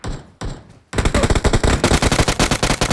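Rapid automatic gunfire from a battle royale video game rattles close and loud, a short burst and brief pause giving way to a sustained, evenly spaced stream of shots.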